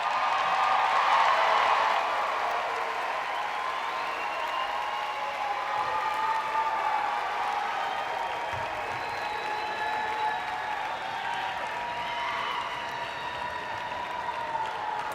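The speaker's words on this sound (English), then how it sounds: "Please give all of our students one more round of applause" Sustained applause from a large crowd at a nursing school pinning ceremony, steady and dense throughout, with a few whistles or cheers rising faintly within the clapping.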